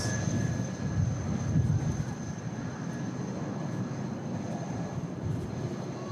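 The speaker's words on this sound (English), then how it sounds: "our next arrival will be the Ryanair in from Barcelona" A Ryanair Boeing 737-8200 MAX arriving from Barcelona at Manchester produces a continuous, broad jet rumble. The roar is louder at first and eases slightly, with a thin high whine over it.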